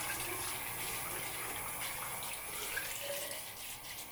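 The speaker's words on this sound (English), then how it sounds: "I'm just going to start with my normal rinsing my face like I do every morning." Tap water runs steadily into a sink as someone rinses their face in the morning. The hiss is soft and continuous, with no talking.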